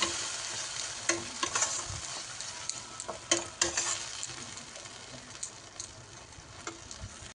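Pointed gourd frying in a pan while being stirred, with a steady soft sizzle broken by close scraping and clinking strokes of the spatula, loudest in the first few seconds and thinning out toward the end.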